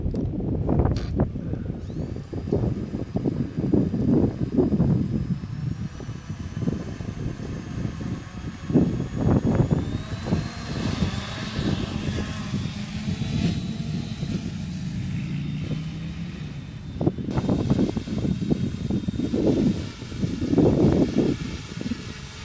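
A quadcopter carrying dual 3700mAh LiPo batteries climbs at full throttle, its motors giving a sustained high whine over heavy, gusting wind rumble close to the microphone.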